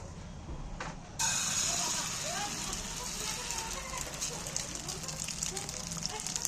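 Beaten egg hits a hot oiled pan with a sudden loud hiss that jumps up after a quiet second, then settles into a steady close sizzle while a voice speaks over it.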